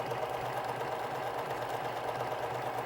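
A sewing machine runs steadily, stitching a decorative feather stitch to join two strips of heirloom fabric, a continuous close mechanical whir with an even rhythmic hum and no pauses.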